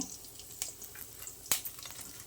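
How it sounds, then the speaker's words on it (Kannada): Curry leaves go into hot coconut oil with chana dal and urad dal for a tempering in village-style greens sambar, giving a faint, low sizzle broken by a couple of sharp crackling pops. "ಇವಾಗ ಒಂದು ಸ್ವಲ್ಪ ಒಗ್ಗರಣೆ ಬೇವಿನ ಸೊಪ್ಪು"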